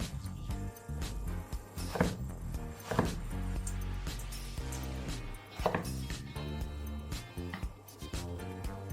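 A knife cuts chicken breast into small cubes on a board, giving a series of close, irregular thudding chops separated by short pauses, with faint background hum and no talk.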